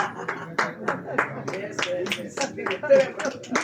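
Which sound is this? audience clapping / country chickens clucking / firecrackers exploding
audience clapping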